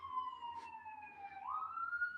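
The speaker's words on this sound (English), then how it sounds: "The sirens are horrifying." A wailing emergency siren with a slowly falling then rising tone, steady and moderately loud, sounding alone without any talk.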